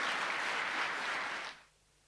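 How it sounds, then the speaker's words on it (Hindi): Audience applause at an indoor mindfulness talk in Mount Abu, a steady dense clapping that holds for about a second and a half before fading out abruptly into quiet. "फिर एक बार जोरदार तालियां"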